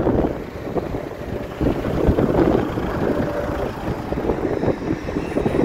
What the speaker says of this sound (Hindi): हवा भी काफ़ी चल रही है आज।